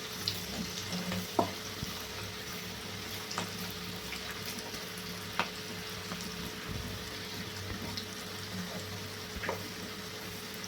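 Cabbage pakoda fries in hot oil with a steady, even sizzle that holds throughout, broken by a few sharp crackles or pops as the batter cooks.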